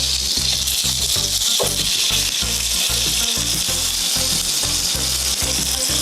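Pre-boiled potatoes searing in a pan of hot garlic-infused coconut oil, a loud, steady close-up sizzle and crackle with a repeating low thumping underneath.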